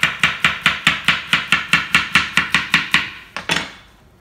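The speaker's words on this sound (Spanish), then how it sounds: "Vamos a picar estas." A knife chops ingredients for aguachile on a cutting board in a quick, even rhythm of about fifteen crisp, close knocks, followed by a couple of final strikes, with no talking.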